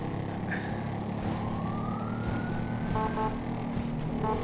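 A police motorcycle siren wails in the video game GTA V, a continuous rising electronic tone running over steady in-game traffic and engine noise.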